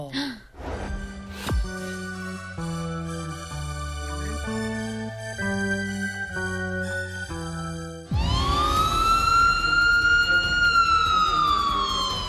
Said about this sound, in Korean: 온 국민을 불안에 떨게 한 공습 경계 경보